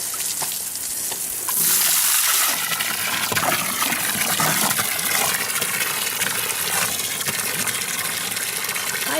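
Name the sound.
water running while bathing a horse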